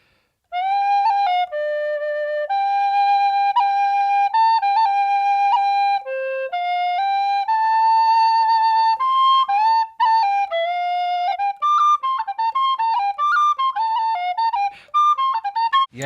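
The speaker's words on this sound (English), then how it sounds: "we've been working all morning playing the C whistle" A tin whistle in C plays a slow air in a studio, clear sustained notes with gentle ornaments and brief breath gaps, close and loud, alone.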